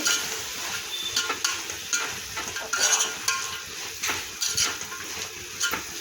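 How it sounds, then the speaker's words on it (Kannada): Spices, coriander powder and garam masala, being stirred in a hot pan while cooking kuska, with steady sizzling and repeated scraping strokes of a spoon against the pan, close and fairly loud, no talking. "ಇವೆಲ್ಲ ಚೆನ್ನಾಗಿ ಕಲಿಸ್ತಾ ಇರಬೇಕಾಗತ್ತೆ"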